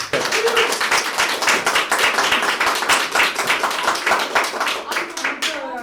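Audience applause after a poetry reading at the Clark Chateau, dense and continuous hand clapping from a small crowd that holds steady throughout and thins slightly at the end.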